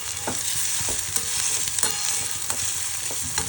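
Ginger and garlic fry in a pan for bombil (Bombay duck) chutney: a dense, continuous sizzle with frequent soft scrapes and taps of a spatula stirring close by.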